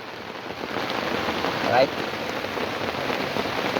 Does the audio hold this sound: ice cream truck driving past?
no